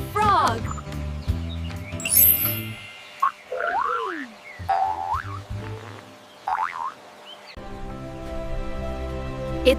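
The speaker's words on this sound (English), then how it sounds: "It's a frog." A frog croaks in short, bouncy, springy calls that rise and fall, mixed with cartoonish sound effects and a musical backing, loud and close throughout.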